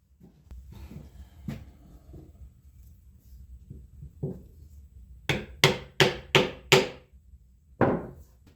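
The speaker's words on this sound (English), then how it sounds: "To adjust it, you tap it firmly with a hammer." Sharp hammer taps on the wooden wedge of a hand plane, a few scattered early then a quick run of five firm strikes and one more after a pause, close and loud over quiet room noise.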